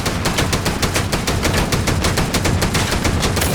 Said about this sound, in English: You can hear more water cannons over on my right.